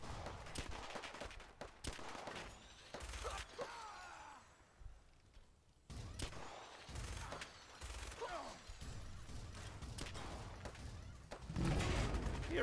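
A minigun in Fallout 4 rattles off bursts of rapid gunfire amid other shots and clatter, the firing coming in dense clusters with short gaps and some distant echoes.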